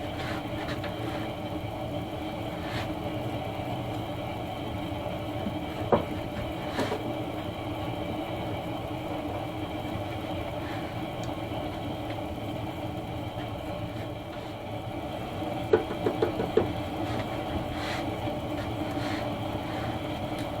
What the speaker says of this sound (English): I got my heater on here in my shop.